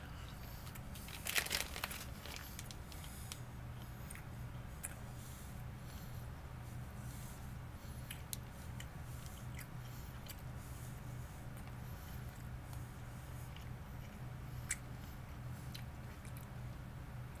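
Someone bites and chews Great Value Original Turkey Sausage Sticks close to the mic, with a sharp snap early on and then soft, steady mastication over a low background hum.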